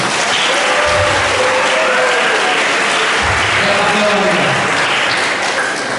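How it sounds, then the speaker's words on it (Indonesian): A school workshop audience at a Dulmuluk folk theatre session applauding in honour of a heroine, loud sustained clapping with voices mixed in. "Tepuk tangan lagi untuk wanita"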